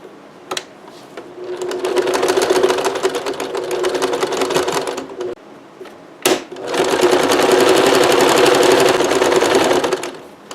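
A sewing machine stitches apron ties along a finished bottom seam, running in two long, loud, rapid bursts separated by a brief pause and a sharp click.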